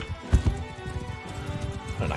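Horse hooves clip-clop in Mount & Blade 2: Bannerlord after a cavalry battle, a few heavy thuds near the start and then a steady patter of hoofbeats under game noise and a voice talking.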